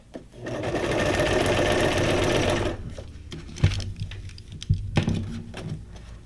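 A sewing machine runs a steady, loud, fast whirring stitch for about two seconds while decorating junk journal pages, then stops, followed by clicks and handling noises.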